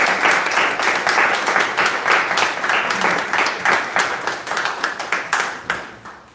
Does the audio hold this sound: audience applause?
yes